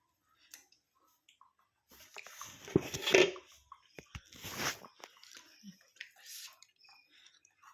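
Close, crunchy chewing and biting of food at a meal, arriving in irregular bursts between quiet pauses, with faint voices murmuring nearby.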